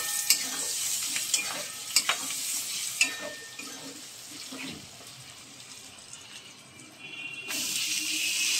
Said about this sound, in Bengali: শিম ও বেগুনটা ভাজা হয়ে গেলে এর মধ্যে দিয়ে দিচ্ছি হলুদ গুঁড়ো ও পরিমাণ মতো লঙ্কা গুঁড়ো